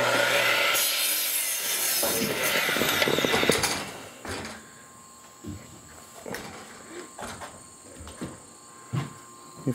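Hand sawing of lumber for a shack roof, rasping rubbing strokes loud and close for the first few seconds, then quieter scattered knocks and scrapes of wood.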